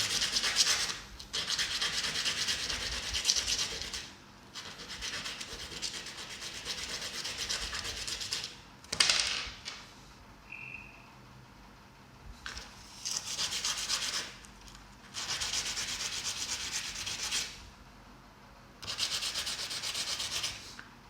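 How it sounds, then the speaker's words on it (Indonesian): Repeated bursts of sandpaper rubbing against the cut end of a Baofeng BF-T1 radio antenna, several strokes in a row separated by short pauses, close and fairly loud. "setelah kita potong, kita amplas lagi"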